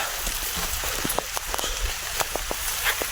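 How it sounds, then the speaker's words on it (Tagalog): Steady rain hisses over a surface, with scattered louder drops and patters standing out against the dense wash of falling water. "umulan na grabe ulan na to eh"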